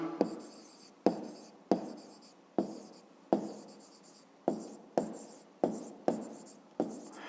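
Pen strokes on paper during a fifth-grade math exercise, a rhythmic series of about ten scratching strokes each starting with a sharp onset and tapering off, close and quiet with no talk.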